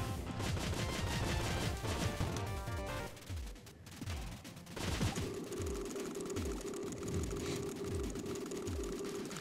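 Cave Story's machine gun fires in a fast, continuous rattle while the character flies, layered over chiptune music with a steady thumping beat, with no talking.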